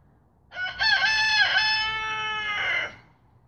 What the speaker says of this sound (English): Those damn roosters are so loud.